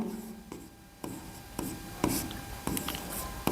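Chalk or marker writing on a board in a classroom: a series of short scratchy strokes in irregular rhythm, close and fairly quiet, with no talking.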